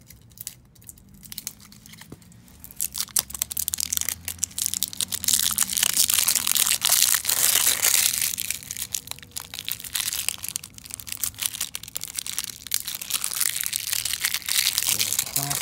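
A small hammer repeatedly cracks and crunches a brittle rock-like piece at close range, with dense, irregular crushing and crumbling strikes and some talk mixed in.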